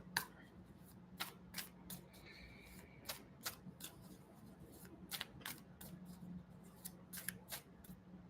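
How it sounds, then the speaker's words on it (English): A deck of tarot cards being shuffled during a reading, giving repeated crisp riffling and snapping bursts in irregular rhythm, close and fairly quiet, with no talking. "if you're wondering why I shuffle the deck with my eyes closed"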